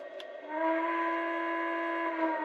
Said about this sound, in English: That's a good sounding whistle, isn't it?